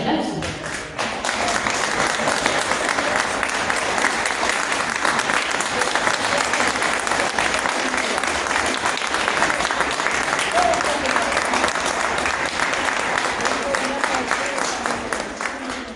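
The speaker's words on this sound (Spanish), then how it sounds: "Un fuerte aplauso." A large audience at the opening of a provincial weavers' gathering in Zapala bursts into strong, steady applause that stays loud and dense for the whole stretch, easing slightly at the very end.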